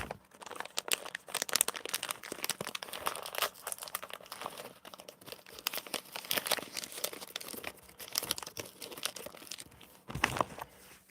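Candy packaging is crinkled and torn open at its tear point in a long, continuous run of close crackling and ripping plastic, with no talk.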